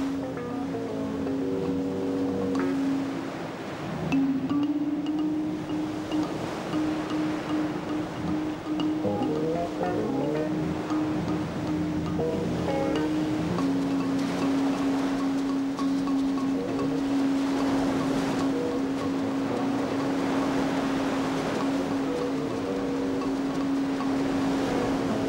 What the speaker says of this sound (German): Beim Verlassen der Wineglass Bay peitschen Wind und Regenschauer das Boot und es kommt nur schwer voran.